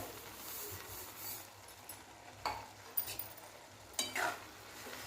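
Carrot halwa with added sugar is stirred in a pan over a soft background sizzle, with a few scraping strokes and light clinks of the spoon against the metal.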